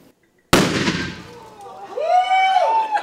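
A sudden loud bang from a chemistry demonstration show explosion, followed by a decaying rumble and a rising, whooshing tonal sweep, ringing out in a hall.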